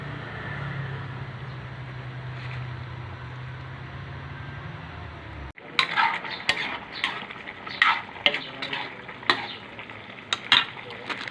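A low simmering hum gives way to bamboo shoots tipped into a pot with coconut milk, followed by repeated clanking stirs and scrapes of a utensil against the pot, close by.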